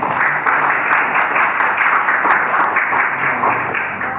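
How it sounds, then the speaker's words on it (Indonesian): Audience applause after a correct quiz answer about Ki Hajar Dewantara during a university teaching session, with steady dense clapping filling the room for about four seconds and a faint voice underneath. "Tepuk tangan dong."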